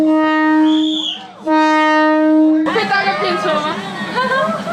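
A train sounds a loud, sustained horn blast twice as it approaches through a street crowded with tourists. Voices chatter around it, and the horn gives way to a busy mix of crowd talk and nearby movement.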